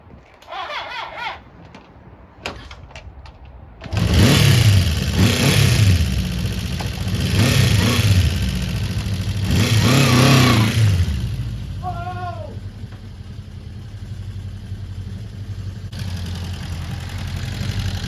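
A Honda CB400 Four classic motorcycle under restoration idles steadily up close, its engine note swelling with a few revs, while people talk over it at the start.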